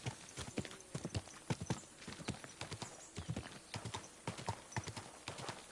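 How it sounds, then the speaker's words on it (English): Steady clip-clop of video game horse hooves on a hard surface, brisk and rhythmic, close by, with a faint whinny-like note in the background. "Easy, good horse."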